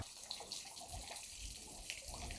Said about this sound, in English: Just water come out of the pipe, you know.